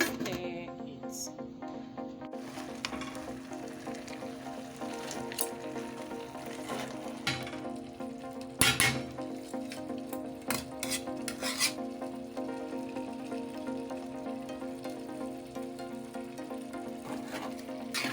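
Edikaikong soup with periwinkle and pumpkin leaf vegetables stirred in a pot, a steady low bubbling simmer under repeated scraping strokes and occasional sharp utensil knocks against the pot, close and moderately quiet, no talking.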